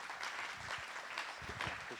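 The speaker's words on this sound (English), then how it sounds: "So please give a big round of applause to Dr." An audience at a talk applauds Dr. Robert Emmons with steady, dense clapping that fills the room evenly for a couple of seconds, fairly soft and without voices.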